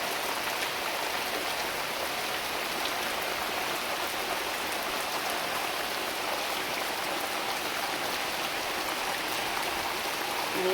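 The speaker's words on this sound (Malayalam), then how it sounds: "നല്ല മഴയാണ് മക്കളെ," Heavy rain pours down steadily in a broad, constant hiss of drops hitting surfaces around trees, unbroken and fairly close, with no talking.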